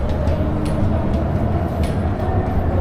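Steady low rumble of a Hong Kong MTR metro train on the blue Island Line in motion, continuous and fairly loud, with faint high squeals and rattles over the top.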